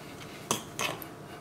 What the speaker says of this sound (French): On mélange le cheddar.